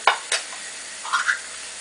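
Green beans with shrimp sizzle and bubble in a pan while a utensil scrapes and stirs a couple of times, sharp clinks standing out near the start.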